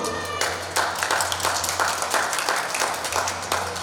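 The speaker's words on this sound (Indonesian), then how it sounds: "Saya boleh minta tepuk tangannya dulu." An audience at a Ramadan takjil cooking demo applauds with lively, uneven clapping at moderate volume, with bursts of sharper claps and a low steady hum underneath.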